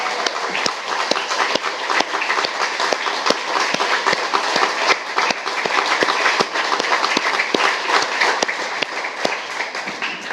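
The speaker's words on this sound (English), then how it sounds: "join me in giving them a huge round of applause for the hard work they do every day." At a YMCA camp annual meeting, a large audience applauds steadily and loudly for about ten seconds, with sharp individual claps standing out from the sustained patter.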